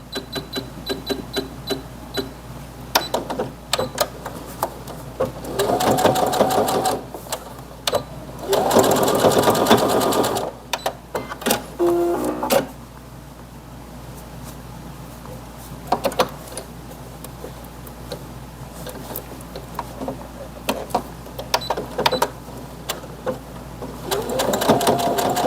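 A sewing machine stitching corduroy fabric runs in short bursts of fast mechanical whirring, with a few longer runs, clicks and quiet handling between them, heard up close.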